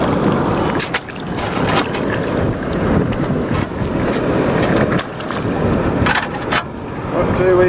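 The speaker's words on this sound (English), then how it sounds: "You probably can't hear what I'm saying over the wind anyway." Strong wind buffets the microphone on a beach, a continuous loud rumbling roar with gusty swells, while a person talks faintly underneath.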